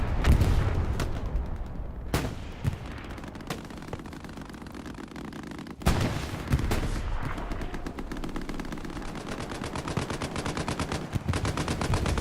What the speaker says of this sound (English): the tracer there with the SPA lobbing those rounds